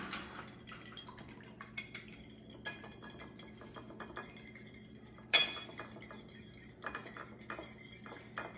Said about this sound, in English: crack your egg open right onto the plate, and you're just going to give it a good whisk